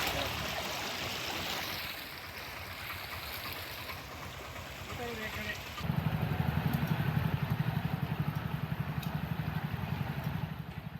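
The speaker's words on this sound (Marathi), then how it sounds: "नेसू नदीला पूर आल्यामुळे झरीपाडा ते जामदेवड या फरशीवरून पाणी वाहत आहे।" Floodwater from the swollen Nesu river rushes over a low causeway near Jharipada in heavy monsoon rain, a loud, steady roar of flowing water that grows heavier and deeper partway through, with voices faintly underneath.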